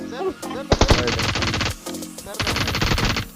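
An M4 rifle in the mobile game PUBG Mobile fires two rapid automatic bursts separated by a brief pause, loud and close, with a little voice activity at the start.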